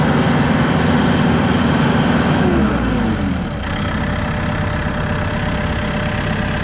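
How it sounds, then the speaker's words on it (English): Massey Ferguson 2E.60 Hydrostat compact utility tractor engine, 57.3 hp, idling steadily and fairly quiet, with engine speed dropping partway through to a lower, softer idle. "You can tell that's a nice quiet tractor."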